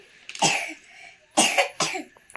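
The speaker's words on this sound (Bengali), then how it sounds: "এখনো কাশিটা আছে" A child coughs in three separate bursts, the first one drawn out and the last two closer together. The sound is near and fairly loud against a quiet room, with no talking.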